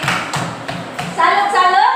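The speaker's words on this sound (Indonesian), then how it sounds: "Tepuk tangan untuk Nopali." A classroom of children claps for a classmate, a few quick uneven claps up close before young voices start chanting together over the last part.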